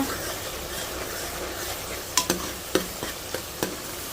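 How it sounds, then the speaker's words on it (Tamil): Ground onion and spice paste sautéed in oil, a continuous low sizzle broken by several sharp taps and scrapes of a spoon against the pan, with no voices. "பச்சை வாடை போகிற வரைக்கும் வதக்கணும்"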